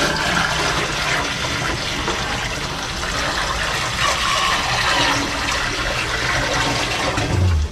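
Water is poured into a hole to flush out cement, a loud continuous gushing and splashing close by, no talking.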